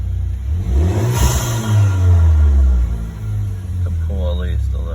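Engine of a 2019 VW Jetta with the 1.4T turbo four revving up against its limiter, a loud low drone rising and holding steady, then dropping back, with someone talking over it.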